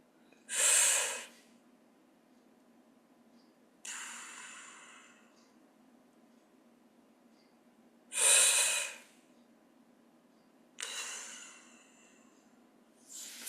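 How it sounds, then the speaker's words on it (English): Slow breathing exercise heard as two long, breathy airflow bursts separated by quiet pauses, each pair a strong inhale followed by a softer, drawn-out exhale, close and alone. "4 in, hold for 7, and breathe out for 8."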